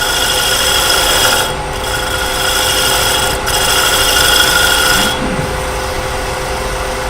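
A steady, loud shear scrape on wood, a hand tool rasping continuously across the grain with brief pauses in the stroke, no talking.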